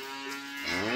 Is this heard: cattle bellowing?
yes